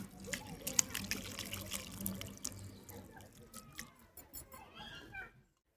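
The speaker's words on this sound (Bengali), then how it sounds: "ছানাটাকে ঢেলে নিচ্ছি" Hot chhana fresh cheese being poured out with its whey, a close, soft splashing and trickling of liquid with drips, tapering off into silence at the end.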